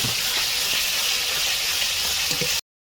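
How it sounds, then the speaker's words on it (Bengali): Cumin and coriander paste sizzles in hot oil in a pan, a steady loud frying hiss with small crackles that runs without pause and cuts off abruptly at the end. "তেলের ভিতরে দেওয়া হবে জিরে ব্যাটা জিরে বাটা দিয়ে দেবে তেলের ভিতরে পড়ে যাচ্ছে"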